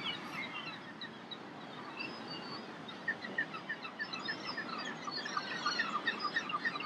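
Seagulls call on the beach at Essaouira, Morocco, a flock of repeated faint cries rising over a soft steady wash of background noise.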